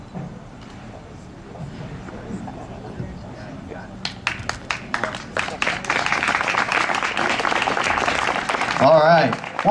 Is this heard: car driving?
no